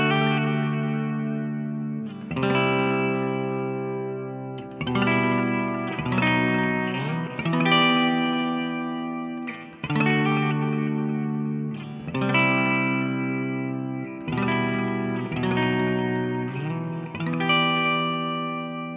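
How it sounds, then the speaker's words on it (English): Electric guitar played through a NuX Atlantic pedal with 60s delay and hall reverb, sustained chords struck about every two and a half seconds, each ringing out with smeared repeats and a spacious tail, no voices. "Let's go for the 60s delay and the hall reverb"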